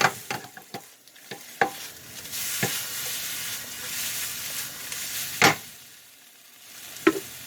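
Shrimp scampi gets stirred and mixed in a pan, with a soft, continuous sizzle broken by several sharp scraping and clattering strokes of the utensil, close and fairly quiet.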